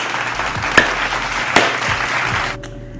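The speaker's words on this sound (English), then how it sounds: "Yeah, clap it up." Several people clapping in a kitchen for a couple of seconds, a light patter of claps with two sharper loud hits, fading out abruptly near the end.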